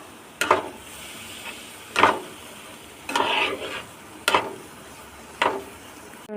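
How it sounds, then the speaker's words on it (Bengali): Milk goes into a cardamom-scented mixture in a pan for a pantua sweet and is stirred in. Five distinct, evenly spaced scraping strokes sound close up over a faint background sizzle. "এবার দুধটাকে অল্প অল্প করে দিয়ে নাড়তে থাকবো।"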